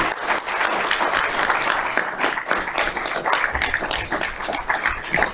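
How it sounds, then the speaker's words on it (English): Warm, sustained applause from a seated audience honoring presenters at a public forum, a dense wash of many hands clapping at once, fairly close and loud with no voices over it. "have another round of applause for our incredible presenters today"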